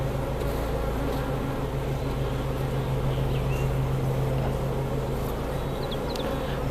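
A colony of honey bees hums steadily around an open hive during queen rearing, a dense continuous drone close by with a few individual bees buzzing nearer at moments.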